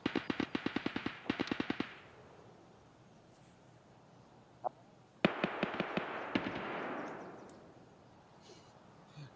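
Gunfire in the video game Escape from Tarkov: two rapid bursts of automatic fire early, a lone shot, then another loud burst with echoing decay, all fairly faint and distant.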